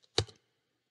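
A computer keyboard, a single quiet keystroke click with a faint soft rebound, close and isolated in silence.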